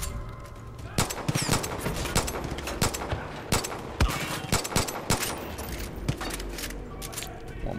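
Gunfire in the video game Far Cry 5, rapid bursts of shots and sharp single cracks over a constant background of game noise, loud and close, with a voice talking over it at times.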